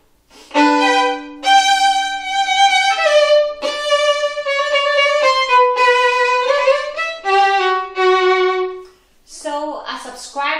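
Solo violin plays the opening of the first movement of Mozart's Violin Concerto No. 3, clear sustained bowed notes and phrases up close, with a short breath of noise at the end.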